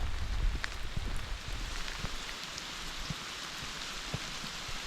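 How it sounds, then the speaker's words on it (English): Light to moderate rain patters steadily on a forgotten cabin shelter, a dense even hiss with scattered distinct drops heard close by and no talking. "Rain began last night, and it's going to continue all week long."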